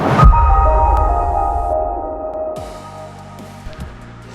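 A woodturning sharpening wheel on a grinder spins down after sharpening tools, a steady whirring hum that slowly fades, with a low mechanical rumble continuing after it.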